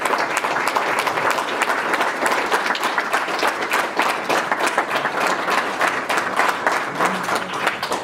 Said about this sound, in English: please stand and join me in a round of applause